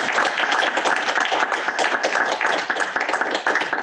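A lecture audience applauds at the close of Prof. Akin Ogundiran's talk on merchant capital and the archaeology of modernity: dense, steady clapping from many hands, loud and continuous throughout.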